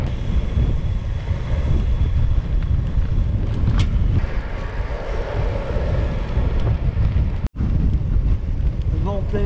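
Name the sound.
strong headwind blowing on cyclists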